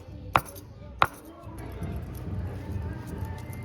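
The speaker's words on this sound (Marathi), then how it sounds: "ढोमाचा खवला काढून घेऊया." Knife work on a dhoma fish at a home kitchen, two sharp close knocks early on, followed by a steady rough scraping and rustling texture with no talk.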